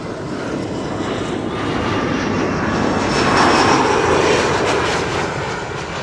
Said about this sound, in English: here is KLM flight 1030 arriving from Chester